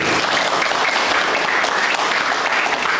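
Dense, loud classroom applause from junior high students for a student group during a learning session at an Islamic museum, a steady wash of clapping with no speech.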